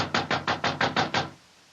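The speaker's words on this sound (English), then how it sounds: "I'll knock again." Seven firm, evenly spaced knocks on a theatre dressing room door, loud and close, in a quick steady rhythm that stops abruptly with silence after.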